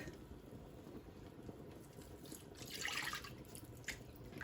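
Milk splashes and trickles into a pan of flour and margarine roux, a faint, soft liquid pour that swells briefly midway through a quiet kitchen.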